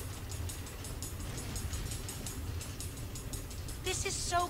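A minecart in the game Minecraft Story Mode rolls along rails with a steady rumble and regular clickety-clack beats, ending in a brief bright chiming effect.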